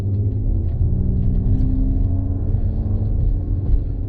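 A 2025 Mercedes-AMG GLE 53 on the road, its engine giving a deep steady rumble with a low droning tone from inside the cabin, continuous and fairly loud with slight swells.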